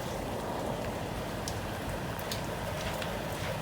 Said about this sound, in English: it's raining, so the conditions are pretty much the worst.